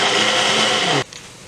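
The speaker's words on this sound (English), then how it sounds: "So I'm just going to blend these up" Blender pureeing canned diced tomatoes roars loud and steady for about a second, then cuts off abruptly into quiet.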